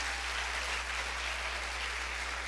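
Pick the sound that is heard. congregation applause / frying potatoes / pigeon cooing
congregation applause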